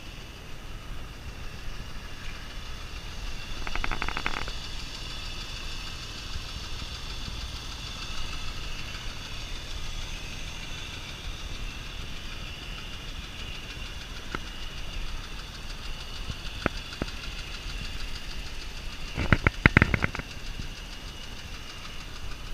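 A 2006 Porsche 911 engine idling after a cold start, a steady mid-level hum with a fine ticking texture and a few brief clicks along the way.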